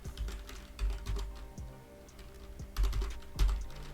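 Keys are typed on a computer keyboard while entering code in a text editor. The clatter is steady and close, and it comes in uneven clusters with brief pauses between them.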